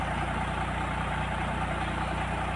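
Foton truck engine idling steadily after a steering pump replacement, a close, constant low rumble with an even throb throughout and no talk over it.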